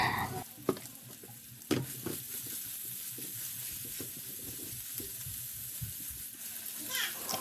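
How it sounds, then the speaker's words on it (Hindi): Onions frying in oil, a soft steady sizzle with occasional stirring clinks, and a voice talking faintly over it. "प्याज को फ्राई करना बढ़िया से"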